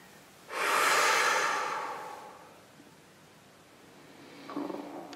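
A slow, deep exhalation during a guided sophrology relaxation exercise: a long soft breath swelling quickly then fading over about two seconds, followed by quiet and a faint shorter breath near the end.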